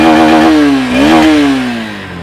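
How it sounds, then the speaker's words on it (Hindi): A 2025 Honda CB200X motorcycle engine revved hard toward full throttle, loud and close, with a rising high-pitched whine that dips briefly, then climbs again and slowly falls away. "एग्जॉस्ट सुनो। टोटल देता हूँ अब मैं।"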